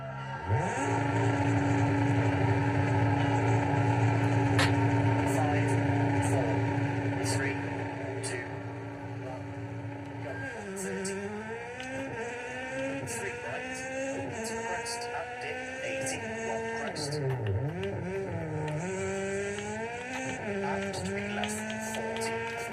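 Virtual VW Polo R WRC 2013 rally car engine from EA Sports WRC, Rally Sweden stage at Hof-Finnskog, droning steadily at high revs, then rising and falling through gear changes, with a voice talking over it.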